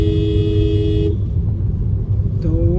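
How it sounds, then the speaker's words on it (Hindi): A car horn sounds in traffic from the driver's seat, one steady loud blast followed by a second short honk, over constant engine and road rumble. "जैसे अभी मैंने हॉर्न दिया ना"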